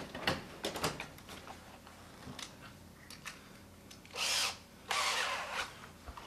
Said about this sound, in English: I think my little drill's